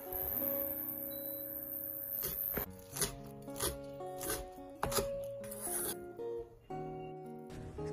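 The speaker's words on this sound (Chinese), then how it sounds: "焯水之后的蔬菜切成末或者切成小段" A knife chops blanched carrot and spinach on a cutting board with a series of irregular, fairly quiet taps and cuts, interspersed with rustling handling sounds.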